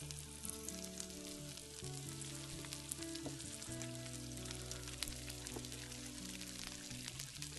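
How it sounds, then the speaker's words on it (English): Sliced radish sizzling in a hot pan beside seared sesame salmon: a soft, continuous crackling fry, even and close but quiet throughout, with no talk. "Go ahead and add in my sliced radish"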